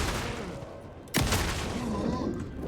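A single loud shotgun blast in the survival horror game Alan Wake 2, a sharp crack followed by a booming tail over quiet ambient game sound.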